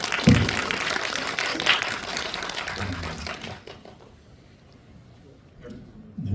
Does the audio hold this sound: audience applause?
yes